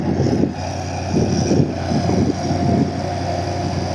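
A homemade tractor's engine runs close by during field cultivation, a loud, steady rumble with throbbing surges in load and no one talking.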